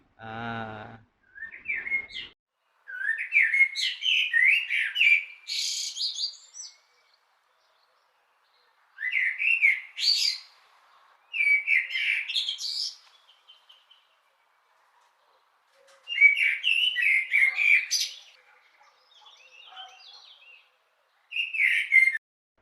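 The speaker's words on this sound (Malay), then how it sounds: "Burung" Recorded bird calls play for a children's animal-sound guessing game in a special education class: bursts of bright chirps and whistled phrases separated by silent pauses, clear and close.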